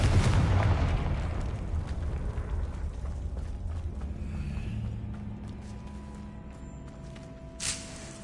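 Confringo fire spell from Hogwarts Legacy on PS5 bursting in a loud blast at the start, then fading into a long rumbling decay over game ambience, with a short sharp pop near the end.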